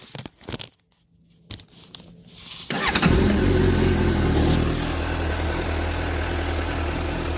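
A 2015 Suzuki GSX-S750 motorcycle with stock exhaust is cranked after a few clicks and handling noises, then catches and settles into a steady, fairly quiet idle close by.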